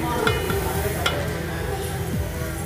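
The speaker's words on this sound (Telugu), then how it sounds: "రవ్వనంతా వేయించుకుందామండి మనం" Dry semolina (upma rava) toasting in a pan for upma, with a steady scraping stir and a faint sizzle-like hiss running continuously, close by and without talk.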